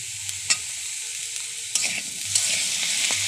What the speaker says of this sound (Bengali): এরপর ডাঁটাগুলো এর সাথে দিয়ে ভেজে নিচ্ছি।